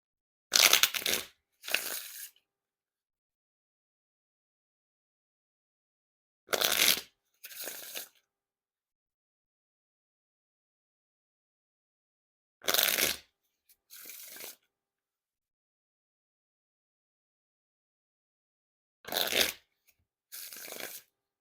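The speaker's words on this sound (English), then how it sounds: "Now time for the riffle shuffle or bridge shuffle." Four riffle shuffles of a Ralph Steadman Flying Dog Edition 2 deck of playing cards, each a quick crisp flutter followed by a softer bridge settling, spaced by long silences.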